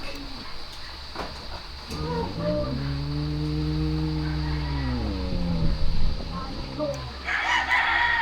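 A rooster crows once at a chicken coop, a loud drawn-out call over steady background noise, with faint clucks and farm sounds around it.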